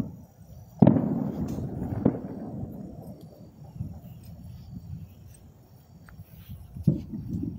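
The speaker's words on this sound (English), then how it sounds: "there's nothing I can do about the fireworks scaring the dogs" Fireworks go off in the distance on a cold New Year's Eve night near a truck stop. There are several sharp pops spaced seconds apart over a steady low rumble of crackling, and no one speaks.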